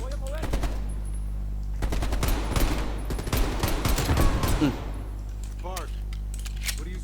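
Call of Duty Black Ops Cold War gunfire: rapid automatic bursts up close, with a few scattered shots afterward, under someone talking over a steady low game hum.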